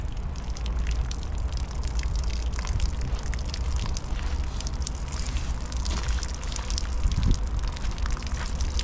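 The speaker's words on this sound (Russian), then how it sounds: "также это вода, также это брызги летят" Continuous water rushing and splashing with spray, a steady broadband wash recorded close on a small action camera, no voices.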